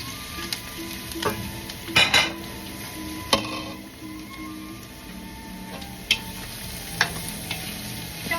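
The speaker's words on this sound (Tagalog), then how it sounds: "ihulog na po natin ang ating laman loob ng baka" Beef innards tossed into a hot pan for a Filipino sinanglaw dish, a steady loud sizzle broken by several sharp scrapes and clinks of a spoon stirring against the pan.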